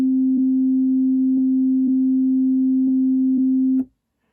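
A Korg wavestate synthesizer plays a two-step looped sequence as a steady, pure electronic tone with faint ticks marking each step, holding for nearly four seconds before cutting off abruptly.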